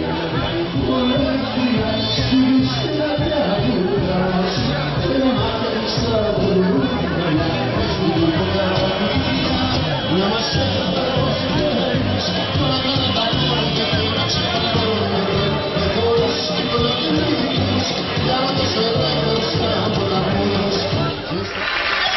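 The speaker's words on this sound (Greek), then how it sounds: "πλήθος κόσμου συγκεντρώθηκε στο κεντρικό εκλογικό κέντρο του κόμματος στην πλατεία Φαρμάκη" A large crowd of PASOK supporters celebrating in Farmaki square in Nafpaktos on election night: steady, dense chatter and cheering hubbub fills the whole stretch at an even, fairly loud level, with a narrated voice running over it.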